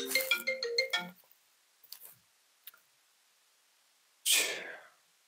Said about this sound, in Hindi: सॉरी यार फोन आ गया था मेरे को